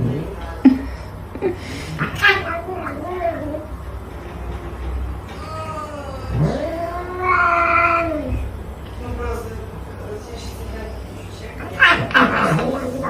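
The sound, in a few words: cat caterwauling and meowing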